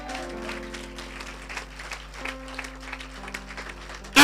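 Applause from a church congregation during a French-language sermon, a steady wash of clapping held under sustained organ or keyboard chords, moderately loud and continuous throughout.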